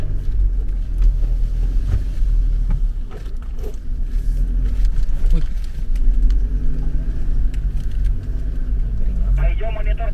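Off-road 4x4 engine grinding and revving on a trail at Ciherang, a steady low rumble throughout with people talking over it and a brief higher whine near the end.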